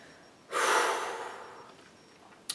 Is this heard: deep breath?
yes